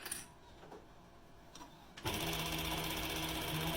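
A sewing machine stitches a seam on a lined toque. Faint handling noises come first, then the machine starts up and runs steadily and loudly, with a fast, even mechanical whir close to the listener.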